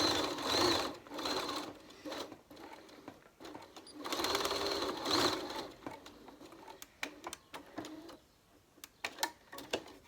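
A domestic sewing machine stitches the seams of a fabric envelope face mask in short runs, close rhythmic whirring bursts separated by pauses with small clicks and handling taps.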